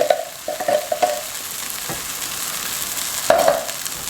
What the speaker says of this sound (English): We're going to chuck in the chopped tomatoes straight in there.